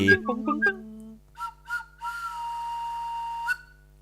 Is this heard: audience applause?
no